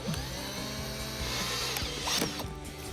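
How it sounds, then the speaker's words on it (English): A 1/8 inch bit drills out rivets on the rear diffuser of a 2015-2023 Dodge Charger, a loud, steady power-drill whine with grinding bursts as the bit bites into the metal, running continuously for a few seconds. "go ahead and drill these out."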